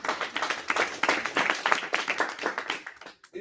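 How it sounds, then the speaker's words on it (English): Audience clapping at a Halloween-themed tech meetup on AI and innovation; a few seconds of lively, dense applause from a room of people, fairly close, fading out at the end. "Give him a big round of applause."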